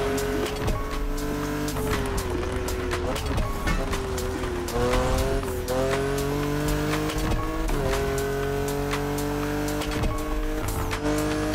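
A BMW Z4 M40i roadster drives in The Crew Motorfest, its engine note loud and steady throughout, rising and falling through gear changes with brief tire squeal, with no talk over it.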